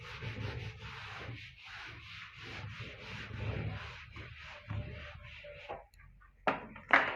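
Rubbing on a classroom board to erase written maths working, a steady dry scrubbing that comes in uneven strokes for about six seconds, ending in a couple of sharp taps.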